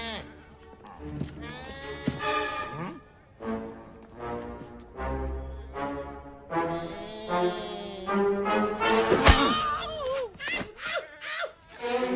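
In an animated film, a person's voice imitates goat bleating with loud, wavering, nasal cries repeated in bursts, mixed with other voices talking and laughing.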